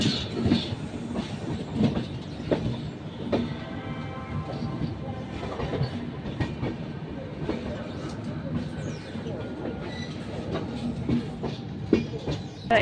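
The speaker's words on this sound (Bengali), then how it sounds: "ট্রেন ছেড়ে দিয়েছে নির্ধারিত ঠিক সময়ে।" A Howrah weekly superfast express train runs along the tracks, with a steady rumble and rhythmic clickety-clack of the wheels heard from inside the carriage.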